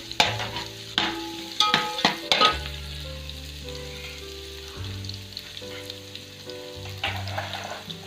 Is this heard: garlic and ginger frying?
yes